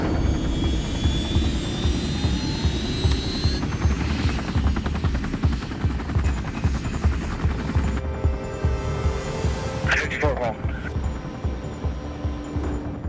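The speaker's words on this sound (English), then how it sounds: "the air unit had taken off from our local airport here in Venice and was over top of us" A police air unit helicopter flies overhead near Venice, its steady loud rotor thump and turbine whine continuous throughout, with brief higher whistling tones midway.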